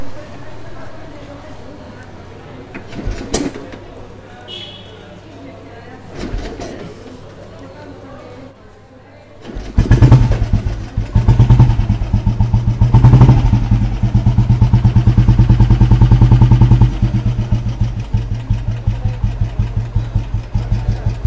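A few sharp kicks and sputters, then an old kick-started motorcycle engine catches and settles into a loud, rhythmic, thumping idle that runs steadily.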